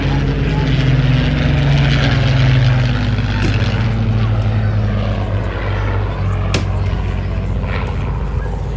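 A Rolls-Royce Griffin engine drives a Spitfire Mark 19 at an airshow, a loud continuous propeller drone with a steady whine that holds throughout, swelling slightly early on as the aircraft passes.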